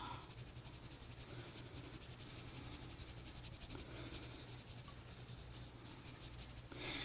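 A fine marker colours a drawn waterfall on paper, making a quiet, continuous rhythmic scratching and rubbing of felt tip strokes, close and soft.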